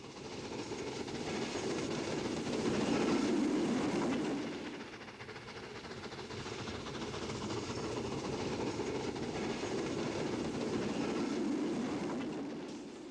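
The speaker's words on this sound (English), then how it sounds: "where suburban trains ran in extremely frequent service, morning and evening times in particular, in and out of Trindade terminus" Steam-era suburban train running on the Porto Trindade line in 1962, partly double track, a steady continuous rumble of rolling wagons with rhythmic clatter that swells and eases, fairly close and without voices.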